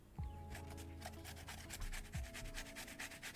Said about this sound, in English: It's a satisfying feeling grating things.